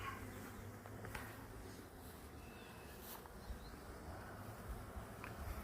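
Honeybees buzz faintly and continuously around hive frames during an inspection, a soft, steady hum with no talk.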